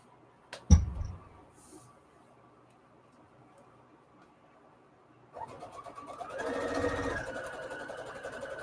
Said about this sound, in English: we're sewing right sides together